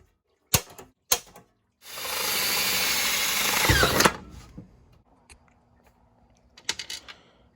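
A power drill bores through metal for an aluminum radiator's electric fan mount, a couple of sharp clicks then a steady two-second whine that cuts off, followed by quiet handling clatter and a few more knocks.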